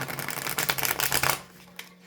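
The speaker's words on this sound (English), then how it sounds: "I did pre-shuffle, but I always like to shuffle again" A deck of tarot cards being shuffled by hand, a fast run of crisp flicking riffles up close that stops abruptly, followed by one soft tap and quiet.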